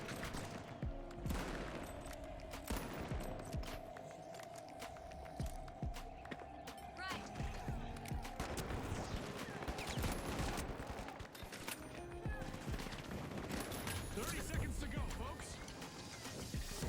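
Rapid automatic gunfire bursts in the video game The Finals, loud repeated volleys and scattered shots with running footsteps and action noise in between, dense and continuous with no speech.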